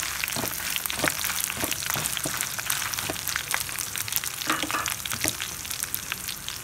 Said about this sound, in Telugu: నూనె కాగిన తర్వాత మెంతులు, జీలకర్ర, ధనియాలు, ఎండుమిరపకాయలు వేసి వేగిస్తున్నాము